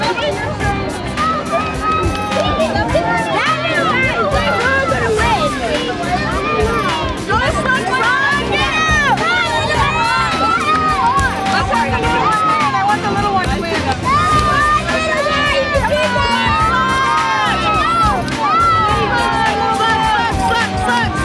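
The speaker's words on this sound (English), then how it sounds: "Most animated crowd that I've seen in 3 years" A lively crowd at an outdoor blueberry festival fills the air with continuous loud babble, shouts and excited children's voices, dense and unbroken throughout.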